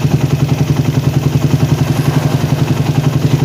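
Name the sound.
motorcycle engine RPM rising while tuning PWK carburetor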